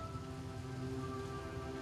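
Rain falls in a forest in the Philippines, a steady soft patter with a low, even wash of drops throughout this short, fairly quiet stretch, no voices.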